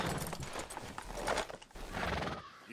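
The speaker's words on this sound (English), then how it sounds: "We'll need to go on a horse." Hooves clatter as a horse moves and whinnies loudly in the video game Red Dead Redemption 2, with a couple of bursts of neighing over the uneven footfalls at close range, no talk.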